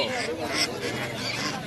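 Ducks quack in a noisy jumble at a livestock market, several birds calling at once with a busy crowd murmur around them.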